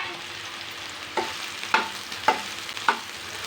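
Soybeans stirred and roasting in hot oil, a steady frying hiss with several sharp scraping stirs spaced about half a second apart, close and moderately loud with no talking.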